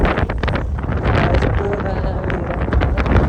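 Strong wind in the Mustang mountains of Nepal buffets the microphone in a constant, loud roaring rush with gusty surges throughout.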